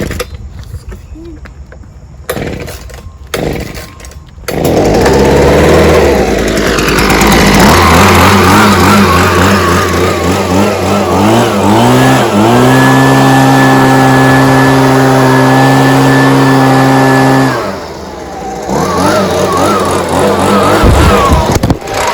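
Ryobi lawn edger attachment with a small gas engine running loud and steady, holding a high revving drone for several seconds while blowing debris out of a deep trench, then easing off briefly before running on.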